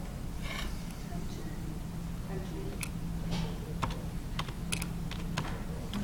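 Typing on a computer keyboard, quick irregular clicks and taps against a low steady background hum, with a few louder isolated key strikes.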